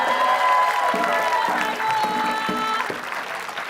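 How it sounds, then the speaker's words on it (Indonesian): A studio audience at an Indonesian quiz show claps together, a fairly loud, close burst of applause with a musical jingle or tones running underneath. "Ayo semua tepuk tangan dong."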